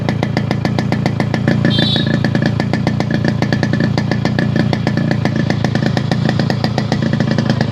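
A restored Yamaha RX100 two-stroke motorcycle engine runs steadily at idle, a loud, close, rapid buzzing putter that keeps an even rhythm throughout with no talk.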